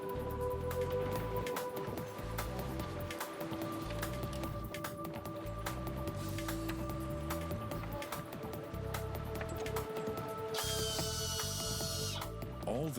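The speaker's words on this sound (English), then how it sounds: "All this just to drill holes for mounting brackets." Drill boring holes for mounting brackets underwater on the Rio-Antirio Bridge: a steady, muffled mechanical grinding with sustained tonal whine, irregular ratcheting knocks and a brief burst of hiss near the end.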